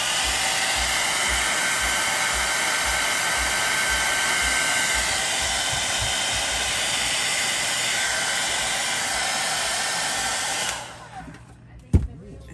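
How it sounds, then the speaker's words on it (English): A loud, powerful blow dryer roars with a steady high-pitched whoosh for several seconds, then cuts off, followed by a brief knock. "So I got my big blow dryer. It does the best. It's the most powerful one."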